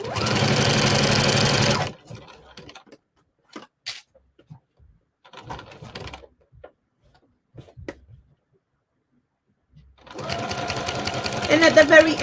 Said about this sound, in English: at the very end, we are going to want to backstitch one more time